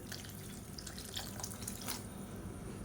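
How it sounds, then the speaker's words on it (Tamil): Water being poured into a pot of sautéed vegetables and spice powder for a Tamil kuzhambu, a soft continuous splashing and trickling heard up close and fairly quiet. "காய்கறி வேகிற அளவுக்கு தண்ணி சேர்த்துக்கலாம்."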